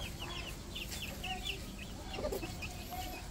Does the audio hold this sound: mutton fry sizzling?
no